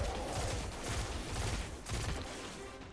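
Pulse rifle fire in the video game Destiny comes in close, loud, rapid bursts of shots running nearly the whole time, with a brief dip before the final volley.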